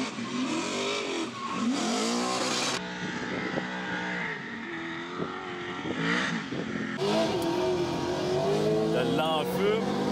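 Subaru BRZ engine revving hard while driving in a head-to-head duel, loud and close with rising and falling pitch sweeps through gear changes, under excited talk throughout.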